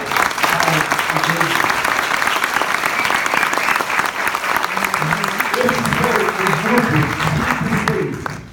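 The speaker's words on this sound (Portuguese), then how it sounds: "eu peço a todos os presentes uma salva de palmas" In a university law class auditorium, the crowd breaks into a steady round of clapping after student presentations, with some voices chattering beneath the applause before it fades at the end.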